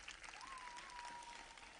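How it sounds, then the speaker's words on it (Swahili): Crowd applause at a regional sports stadium opening, steady clapping held at even level throughout the short stretch, heard alone without speech. "Tumpigie makofi mengi sana."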